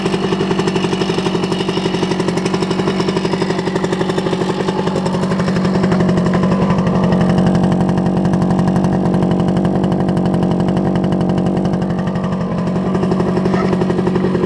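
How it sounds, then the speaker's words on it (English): An old 1971 Kawasaki G3SS two-stroke motorcycle idles close by with a steady, buzzing engine note and constant mechanical rattling, running alone for the whole stretch. "It's an old noisy two-stroke. It's what you can expect. Makes a lot of rattling sounds."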